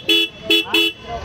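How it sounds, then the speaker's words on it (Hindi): A loud dual horn on a Royal Enfield Classic 350 motorcycle honks three times close by, each a short, bright two-tone blast with brief gaps between. "अभी यहाँ डुअल हॉर्न का कनेक्शन हो गया, तो आवाज़ मैं आपको सुना देता हूँ"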